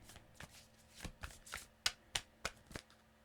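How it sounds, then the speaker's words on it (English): Oracle cards being shuffled and pulled from a deck during a tarot-style reading: a quiet, close run of crisp snapping flicks that grow sharper and more evenly spaced toward the end, with no talking. "So I'm going to pull 2 cards and we'll see what's going on here."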